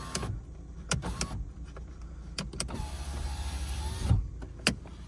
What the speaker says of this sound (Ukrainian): склопідйомники